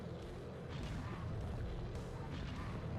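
Dynamite explosions in the video game Nightmare Creatures make a dense, continuous wall of low booming rumble, with heavy blasts running together without clear gaps.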